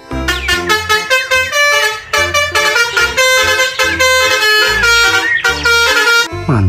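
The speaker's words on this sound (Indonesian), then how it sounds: "Wadidaw, ada mobil bis telolet." Musical horn of a toy telolet bus plays a loud, continuous melodic honking tune, with several quick note changes running through the whole clip and no talk over it.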